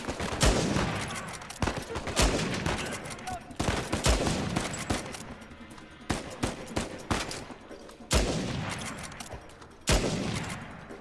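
Gunfire in the video game Uncharted 4: A Thief's End, with dense bursts of rifle shots and sniper fire cracking in quick succession, loud and continuous over several seconds with short pauses between volleys.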